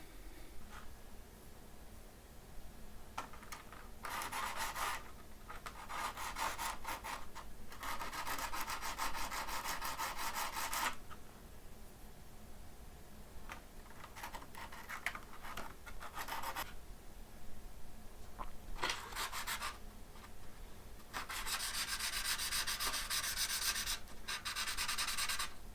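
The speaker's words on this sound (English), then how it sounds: "we definitely have to grind it down a little bit." Wood on a Squier Affinity guitar being ground down in repeated bursts of rough, raspy rubbing, close and fairly quiet, separated by short pauses.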